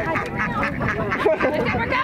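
A flock of seven ducks quacks busily and close by, a continuous overlapping chatter while herding dogs move them at the 1836 Chuckwagon Races, with people talking underneath.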